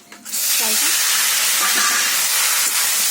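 Dried red chillies and panch phoron hit hot mustard oil with a sudden loud, steady hiss and sizzle that carries on without a break, with no talking.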